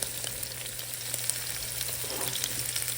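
Beef short ribs searing in a hot pan, a dense, continuous crackling sizzle with small sharp pops, heard close and steady with no talking.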